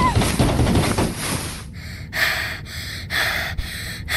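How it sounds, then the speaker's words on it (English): Heavy, rapid breathing from a person playing a horror game on headphones, loud and close, with a run of gasping, snorting breaths in steady pulses after a noisier opening stretch. "Why am I breathing like that?"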